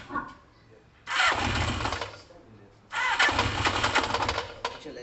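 A Kawasaki ZL600 motorcycle engine starts up twice, each time cranking into a loud, buzzing run for over a second before cutting out, close to the listener.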